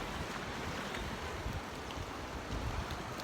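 Surf at Cabongaon Beach in Pangasinan at high tide, a steady broadband wash of waves with wind noise on the microphone and no talk.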